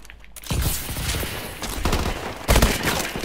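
Video game gunfire in Call of Duty: Advanced Warfare: dense bursts of rapid shots and blasts, loud and continuous over about three seconds, with a heavier volley near the end.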